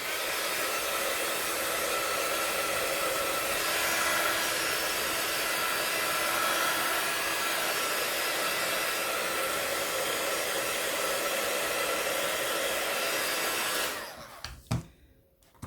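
A heat drying tool blows steadily on stamped paper, a loud continuous whoosh lasting about fourteen seconds before cutting off with a few handling knocks.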